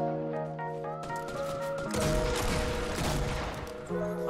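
Gunshots ring out in a Fortnite build fight, a sharp burst of firing and crashing impacts in the middle of the clip over a steady tonal game background.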